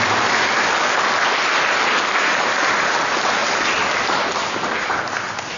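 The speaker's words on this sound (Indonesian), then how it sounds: "Kita beri tepuk tangan untuk Figur." A congregation at an Easter dawn Mass claps for a choir, a broad, even wash of applause that holds steady throughout and eases slightly at the end.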